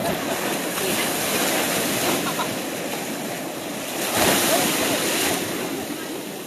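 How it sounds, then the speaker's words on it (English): Ocean surf breaking diagonally to the shoreline at night, where a water rescue crew practises launching through the waves, producing a continuous roar of crashing water with wind noise and a louder surge near the end. "The waves are running slightly diagonal to the shoreline tonight"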